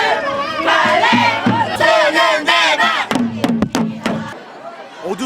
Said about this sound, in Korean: 선배들을 응원하는 후배들의 함성이 끝없이 울려 퍼집니다